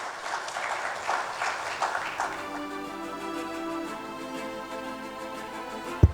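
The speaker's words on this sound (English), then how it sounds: "give you a big round of applause to Mr. Nilesh Asar." Audience applause at a corporate tax talk, a short burst of clapping that gives way to a sustained tone.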